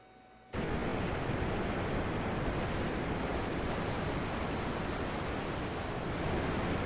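Water and waves in Final Fantasy XII, a steady, full rushing surf that starts abruptly after a brief quiet moment and holds constant without break.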